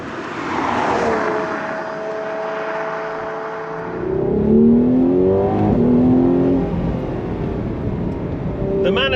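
A Ferrari 12Cilindri Spider, an 830hp V12 convertible, pulls hard out of a corner, its engine note climbing steadily through a rising rev sweep with a deep, loud, close roar that swells midway before easing slightly.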